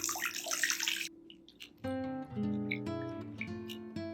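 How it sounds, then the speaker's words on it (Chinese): Warm water splashes briefly into a large bowl holding a beaten egg for cheese bread dough, a short close pour lasting about a second before it gives way to soft music. "加入温水"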